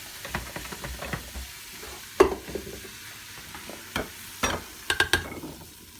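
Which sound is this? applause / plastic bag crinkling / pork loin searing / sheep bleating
pork loin searing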